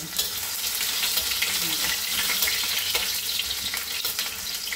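Ginger frying in a pan, for a nylon shell dish, gives a dense, continuous close sizzle with occasional stirring scrapes and no talk.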